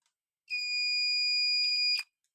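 A single sustained electronic buzzer tone from an Asus laptop under repair, steady and fairly loud, holding for about a second and a half before cutting off with a brief click.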